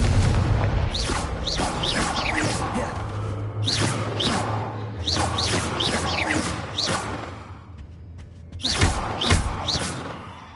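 Confringo fire spell blasts in the game Hogwarts Legacy; repeated booming impacts and whooshing bursts in quick clusters, loud and close, with a short lull before a final pair of explosions.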